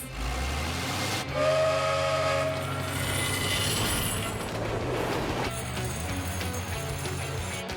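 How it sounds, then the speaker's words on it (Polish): A cartoon train approaches with a loud, sustained steam whistle blasting over the rumble and hiss of the locomotive, the tone shifting partway through before the rolling noise continues. "Nadjeżdża pociąg!"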